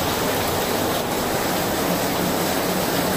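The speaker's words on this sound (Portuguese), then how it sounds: "É água, é água." Water rushing into an open sewer during heavy rain in the Serra de Martins hills, a dense constant roar and hiss filling the clip steadily with no pauses.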